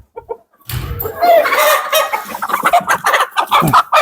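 Black laying hens and a rooster of an Andijon breed cluck and squawk close by in a busy, overlapping chorus after a brief quiet start, loud and continuous.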